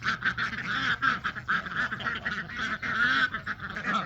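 Farm ducks quack continuously at morning pasture time, a busy close flock of overlapping nasal calls in rapid rhythm with no talking over them.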